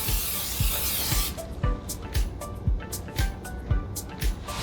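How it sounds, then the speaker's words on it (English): Cooking spray hisses in a loud burst into a bundt cake mold, then the can or mold rubs and taps in a series of short scraping knocks nearby. "Let's spray this down very generously because we don't want our cake to stick to the sides."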